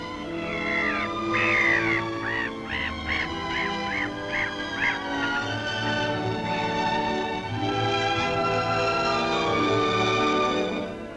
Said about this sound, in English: Even the seagulls are tourist-minded and show off their tricks day after day all through the season.